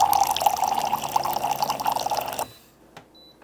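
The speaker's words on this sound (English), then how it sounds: "When you get all the water that you want, turn it off, and it automatically back flushes for a couple of 3 seconds." A Simpure countertop reverse osmosis water filter flushing, water splashing and trickling steadily up close for a couple of seconds, then stopping abruptly, leaving quiet with a faint click.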